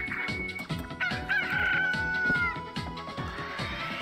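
A cartoonish rooster crows in the video game Billy Hatcher, a sustained call rising and holding over steady rhythmic game music, fairly loud and with no talking.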